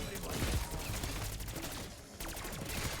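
Grekhova pistol gunfire in Black Ops 6 Zombies, a dense run of loud shots blending into a continuous burst that pauses briefly near the end, then resumes.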